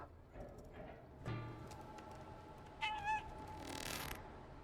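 A cat character meows in the video game Stray, a few short mews among soft ambient game sounds and light footsteps, with a brighter electronic swell near the end.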